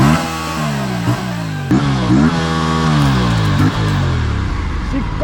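Aprilia RS 457 motorcycle exhaust in sports mode, loud and close, with the engine note climbing and dropping through several revs in a continuous, throaty drone.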